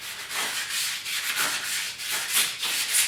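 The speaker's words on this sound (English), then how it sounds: "You don't want to sand it too much" Steady rubbing strokes of sandpaper on the plastic decklid grill of a Porsche 911, a continuous close, fairly loud scratchy hiss with gentle rhythmic surges and no talking.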